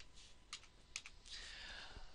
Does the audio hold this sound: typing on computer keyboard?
yes